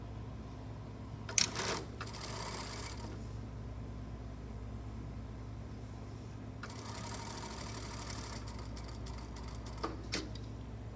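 A sewing machine stitching a collar in short bursts, two runs of fast, fairly quiet needle whirring separated by a pause, with a few small clicks and taps, close by and without talk.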